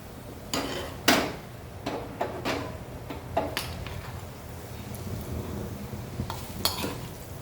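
Tempering poured into tomato rasam, then stirred in the pot: a sizzle under a series of sharp spoon scrapes and clinks against the vessel at irregular intervals, close and moderately loud, with no speech.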